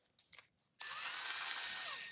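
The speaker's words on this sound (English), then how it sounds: "What I'm going to use is just a cordless drill. This is a Cobalt." A Cobalt cordless drill spins up suddenly and runs at a steady, even whine, driving a hone inside a shotgun barrel. The motor is loud, close and alone after a brief moment of quiet.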